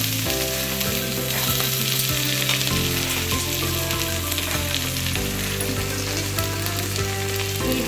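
Onions, curry leaves and green chillies crackle and sizzle hard in hot tempering oil for gongura curry, a loud steady fry with occasional stirring scrapes and no voices.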